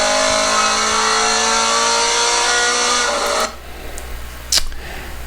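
A Scion FR-S at a track event is driven hard on the throttle, its engine revving loud and sustained with rising harmonics for about three and a half seconds before cutting off abruptly, leaving faint background noise and a brief later sound.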